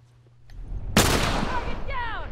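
A single sharp, loud gunshot bursts out in a video game, its boom trailing into a rumbling decay while a faint voice murmurs just before it.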